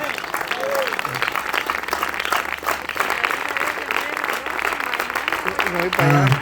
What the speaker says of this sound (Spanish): Una ofrenda de palmas a Dios.